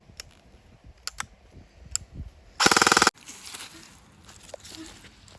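A single semi-auto shot from a G&G RK74 AK-style airsoft rifle is a loud mechanical whir-and-snap lasting about half a second, framed by light clicks and handling noise.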